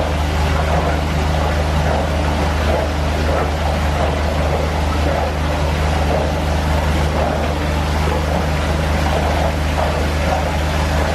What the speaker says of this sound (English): you can hear the pumps running